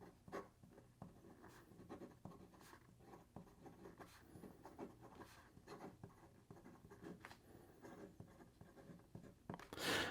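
Namiki fountain pen with a 14 karat gold nib writing across paper, a soft continuous scratching with short pauses between strokes, close and fairly quiet throughout.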